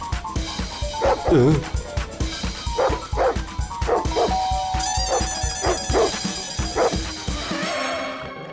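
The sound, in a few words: dog barking in 3D animated cartoon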